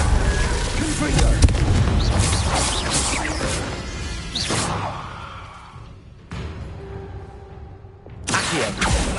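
Fiery Confringo spell blasts in the Hogwarts Legacy video game, a run of loud crashing explosions with booming impacts and bursts, thinning out before a final sharp blast near the end, with voices speaking over them.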